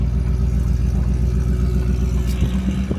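Whipple supercharged Ford F150 truck engine accelerating on a pull, a loud, deep, pulsing drone heard up close with a rising whine near the end.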